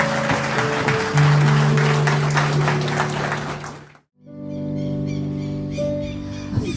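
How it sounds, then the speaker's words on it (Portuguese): Wedding guests at an evangelical ceremony applaud over sustained instrumental music. The clapping fades into a brief pause before the music resumes alone. "Uma salva de palmas."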